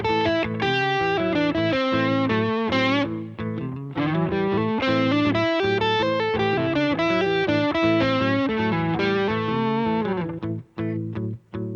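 An electric guitar with distortion and effects improvises a busy line in loose, drunken phrasing that pushes and drags against the beat. It plays loud and continuous on its own and ends in a few clipped notes.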